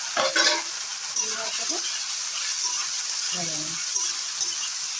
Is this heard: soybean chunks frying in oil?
yes